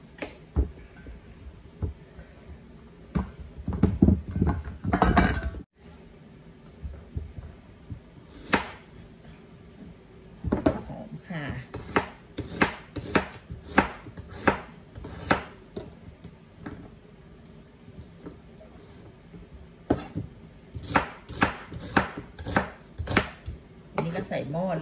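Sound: chopping vegetables for Indian beef curry

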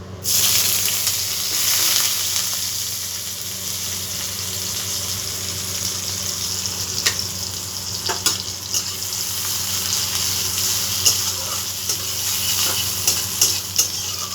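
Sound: chopped onions frying in hot oil

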